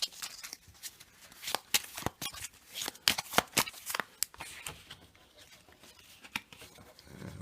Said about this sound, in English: And now, let's shuffle in the matchday cards.